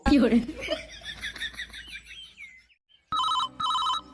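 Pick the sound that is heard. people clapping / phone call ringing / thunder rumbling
phone call ringing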